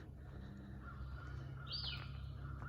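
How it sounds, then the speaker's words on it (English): A few faint morning bird calls, including one brief sharp chirp, over a low steady background hum outdoors at a log cabin build site. "it is a beautiful morning. You can hear the birds."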